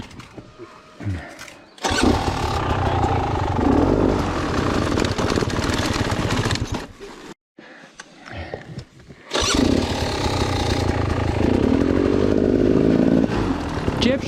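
An enduro motorcycle engine revs hard and loud in bursts, cutting out briefly in the middle and then roaring back, as the bike tries to climb a steep rock face after a clutch drop.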